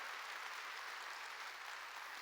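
A church congregation claps together during a sermon, producing a faint, even, continuous wash of applause with no break and no voices over it, as though heard from a distance in the sanctuary.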